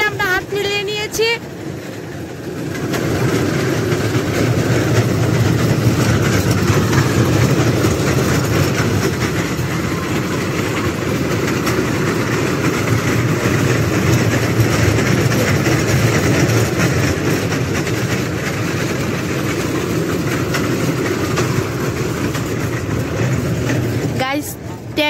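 A train runs steadily with a continuous low rumble and faint wheel clatter, close and fairly loud, as it rolls in toward a station; indistinct voices sit faintly in the background.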